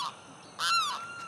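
A limpkin calls in a Florida wetland, a loud, harsh, wailing cry that rises and falls over about half a second after a shorter faint note, heard alone with no talk.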